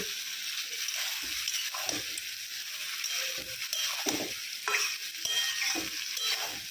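Mixed vegetables sautéing in a pan with a light sprinkle of salt at home, a steady close sizzle with repeated scraping stirs of a spatula, no voices.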